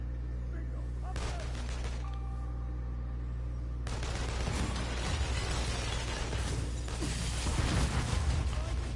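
Automatic turret fire in the video game inFamous Second Son, a dense rattling burst that starts about a second in and keeps going over a steady low rumble, swelling louder toward the end.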